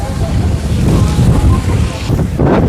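Strong wind buffets the microphone with a loud, continuous roar and low rumbling gusts, during stormy weather at an outdoor political rally with a large convoy of vehicles.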